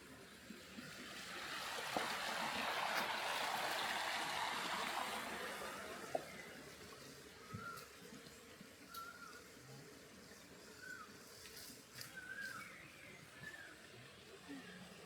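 Soft steady rush of flowing river water, fairly distant, with a brief louder swell early on and faint chirps above.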